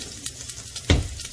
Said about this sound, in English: We're trying to get that nice sizzle